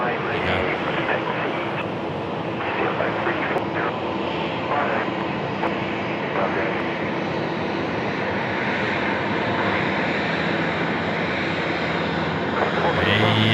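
Fiji Airways Boeing 737-800 jet at Sydney Airport, a loud, steady engine roar held across the whole stretch.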